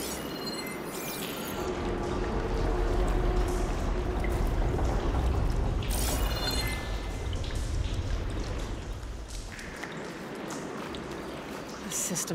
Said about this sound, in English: Get that water circulating.